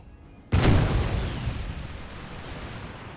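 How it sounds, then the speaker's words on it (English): A heavy artillery boom erupts suddenly from a barrage in the video game Empire: Total War, followed by a long rumbling decay with no voices. "Let the artillery barrage continue."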